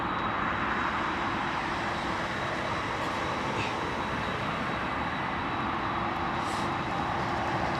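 A UPS Boeing 747 jet gives off a steady, loud broadband roar that holds even throughout with no breaks and no voices.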